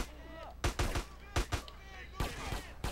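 Gunfire in the video game GTA San Andreas crackles in several sharp, fairly quiet shots and short bursts, with brief voices in between.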